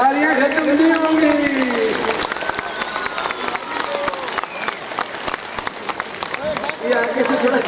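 A large crowd in Kahuta keeps up continuous clapping to welcome Dr Abdul Qadeer Khan. A voice talks over the start and near the end of the applause, with some scattered cheers.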